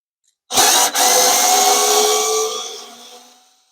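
A Ryobi FVD51K right-angle screwdriver drives a screw in a tight space, a single loud motor whir starting abruptly, hitching once, then running and fading out over about three seconds.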